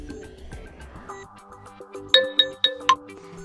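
Alarm clock ringtone previewing on a OnePlus 12R phone, a soft melodic chime building into four bright, evenly spaced ringing tones, fairly quiet and with no talk.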